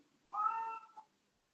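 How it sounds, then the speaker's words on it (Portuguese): A pet cat lets out one clear, close meow lasting about half a second and tapering off, followed by quiet. "Se vocês ouvirem se entrar algum som estranho, é meu gato."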